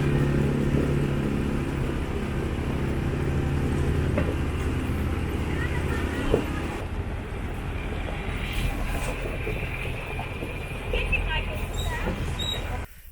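An ATV tractor engine drones steadily while driving through a village to a family picnic, its low rumble and rattling continuous throughout with wind and occasional knocks over it.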